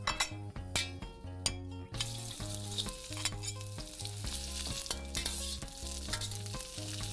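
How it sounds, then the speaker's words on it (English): Vegetables, including fennel, hiss and sizzle in a hot wok while a utensil scrapes and clinks in quick, repeated strokes, close up. "now it's ready to start stir frying the vegetables"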